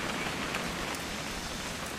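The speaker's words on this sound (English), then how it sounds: "It's gonna rain the whole weekend," Steady rain from the video game What Remains of Edith Finch, a dense even hiss of drops on surfaces filling the short stretch, with no voices over it.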